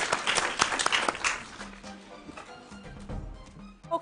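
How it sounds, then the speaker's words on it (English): Audience applause breaks out at a school quiz contest, a dense crackle of many hands clapping that is loudest at the start and then thins out, with scattered claps and faint murmuring toward the end. "A round of applause for this round."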